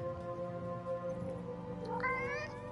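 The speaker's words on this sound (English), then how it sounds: "The cat that was just here?" In the video game Forspoken, a cat gives a single rising meow near the end. It stands out over a steady, tonal game soundtrack.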